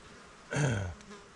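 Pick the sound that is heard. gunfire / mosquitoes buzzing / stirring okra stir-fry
mosquitoes buzzing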